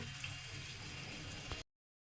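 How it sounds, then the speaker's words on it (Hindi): Water pours steadily into a pan of achari chana, a tangy pickle-spiced chickpea curry, making a continuous close, even splashing hiss for about a second and a half before cutting off abruptly. "अब इसमें हम डालेंगे पानी, जितनी हमको ग्रेवी चाहिए"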